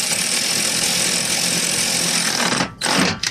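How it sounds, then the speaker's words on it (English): A cordless impact gun tightens the third brake light bolts on a 2015-2020 Cadillac Escalade, giving a steady, close, loud mechanical whir that runs almost unbroken before two short pauses near the end. "controlling the speed of the cordless gun, so I know how to tighten them with a stop"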